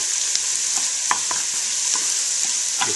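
Bacon bits caramelizing with sweetener in a hot pan, a steady bright sizzle with a few soft stirring clicks scattered through it, close and without talk.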